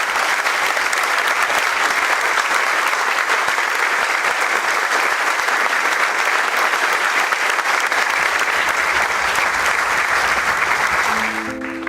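Thunderous applause from Jesuits fills a large hall, a dense, steady wash of clapping lasting nearly twelve seconds before trailing off at the very end.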